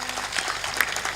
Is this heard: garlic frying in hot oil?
no